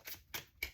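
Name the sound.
shuffling tarot cards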